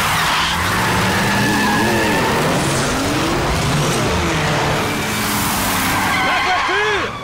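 A stolen car skids away with squealing tires and a revving engine, loud and continuous for several seconds while voices talk and shout over it.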